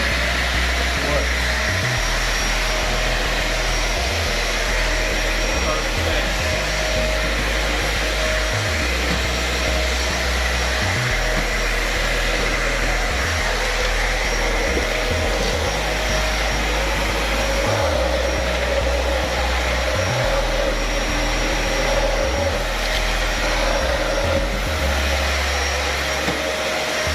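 A Dyson DC40 upright vacuum cleaner runs steadily and loudly, its constant motor whine and airflow roar filling the whole stretch, with a low pulsing throb underneath that rises and falls every few seconds.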